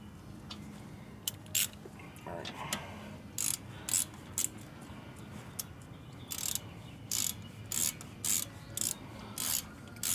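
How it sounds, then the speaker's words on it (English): Hand ratchet tightening caliper bolts on the front brakes of a 2001-2007 Toyota Highlander, giving several bursts of rapid clicking at close range with short pauses between them. "go in with your ratchet, a hand ratchet"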